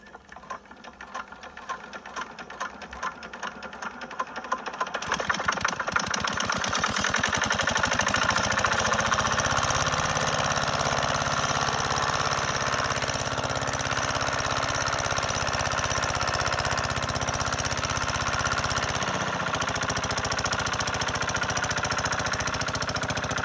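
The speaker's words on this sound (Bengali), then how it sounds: "আমি আপনাদের একদম র সাউন্ড শোনাবো যে আসলে এত দীর্ঘ মেয়াদি একটি ইঞ্জিন ব্যবহার করার পর ইঞ্জিনের সাউন্ডটি কেমন" An old, long-used farm engine kicks into life after a few uneven starting chugs and then runs on steadily with a fast, loud rhythmic knocking, close up and alone without any talking.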